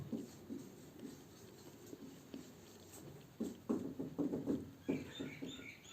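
Faint scratchy strokes of writing on a board in a classroom lecture, soft at first and then a quicker run of taps and scrapes toward the end.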